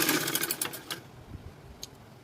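A sewing machine puts a double stitch along a high-neck blouse neckline in a short, rapid rattling burst that stops after about a second. A few faint clicks and handling noises follow.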